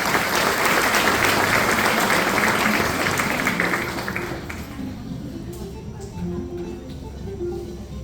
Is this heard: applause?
yes